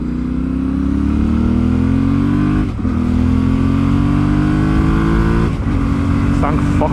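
A Yamaha Ténéré 700 motorcycle engine drones loud and close at steady speed, its pitch rising gradually as it revs, with two brief dips where the throttle eases, heard alone without talk.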